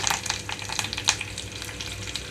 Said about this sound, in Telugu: ఆయిల్ అంతా హీట్ అయిన తర్వాత తాలింపు గింజలు అలాగే ఎండుమిరపకాయలు వేసాను.